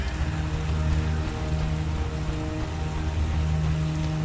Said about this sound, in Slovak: Zase prší.